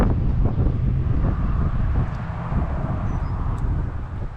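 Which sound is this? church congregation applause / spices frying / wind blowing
wind blowing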